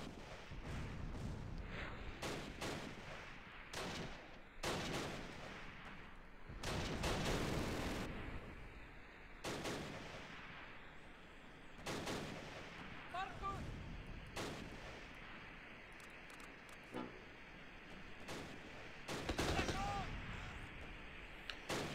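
Gunfire in the Close Combat Last Stand Arnhem war game: repeated rifle and artillery-like bursts and booms, some close and loud, others more distant, rolling through the whole stretch alone.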